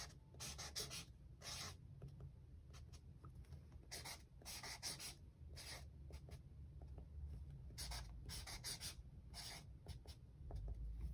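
Pen or pencil writing by hand on paper, a steady scratchy rubbing in repeated bursts of strokes with short pauses, close and faint, with no talking.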